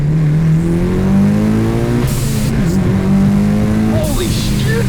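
A Mitsubishi Evo 6 with a turbocharged 4G63 engine accelerates hard from the cabin, its loud engine note rising steadily through the gears. Brief shift breaks and turbo whooshes sit under the climbing drone.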